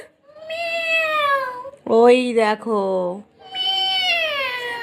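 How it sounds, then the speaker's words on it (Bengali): A kitten meows loudly and repeatedly up close, long drawn-out cries with a brief spoken remark squeezed in between them. "এই দেখো আমাদের বিড়াল বাচ্চা"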